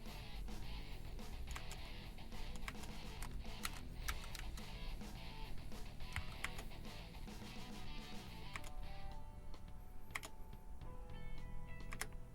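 Typing on a BlitzWolf BW-KB1 60% mechanical RGB keyboard: rapid, dense clicking of keys that thins out into sparser, separate presses near the end, close and fairly quiet, with no voices.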